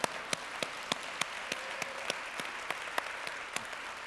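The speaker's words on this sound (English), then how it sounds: "I think I deserve some applause." Light audience applause at a university conversation event, quiet and somewhat distant, with sparse individual claps landing at a regular, slow rhythm over a faint crowd murmur.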